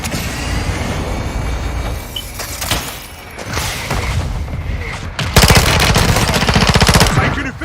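Heavy automatic gunfire in the video game Warzone 2, with scattered shots and blasts giving way to a loud, sustained rapid burst near the end.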